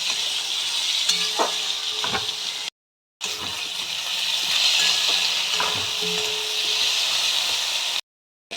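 Sliced potatoes and onions fry together in a pan, giving a steady close sizzle broken by scraping stirs and two short silent gaps.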